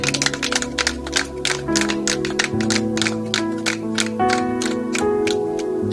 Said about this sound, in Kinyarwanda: Nimumfashe dukomere Imana amashyi menshi